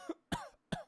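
A voice imitates a child coughing: three short, sharp coughs spaced evenly apart, close and fairly loud, with silence between them.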